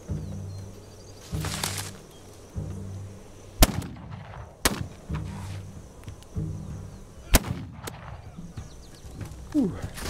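Gunfire in the video game This Land is My Land: three sharp, loud single shots spaced a second or more apart, over a bed of game ambience with rhythmic low thumping.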